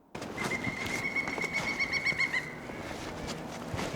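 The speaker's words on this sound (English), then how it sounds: "Woodpecker." A woodpecker in a quiet city park calls in a rapid, even run of bright repeated notes at moderate distance, with no talk over it.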